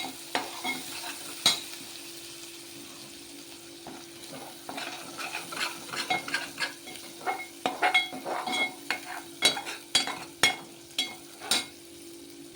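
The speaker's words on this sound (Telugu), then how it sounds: "ఉల్లిగడ్డ మసాలాలన్నీ బాగా నూనెలో వేగినాయి." Onion and spice masala with ginger-garlic paste fries in oil while a spoon stirs it. Steady close sizzling runs under repeated scraping strokes that grow quicker and more rhythmic toward the end, with no voices.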